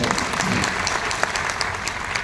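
Steady audience applause at a Marathi poetry recital, dense clapping of a seated crowd sustained evenly throughout, fairly close and moderately loud.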